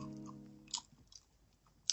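Crunchy breakfast cereal chewed close up in a quiet room: soft mouth sounds with a few crisp crunches spaced apart, after a brief faint hum at the start.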